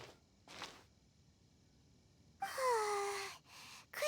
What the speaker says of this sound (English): Excuse me, I keep yawning.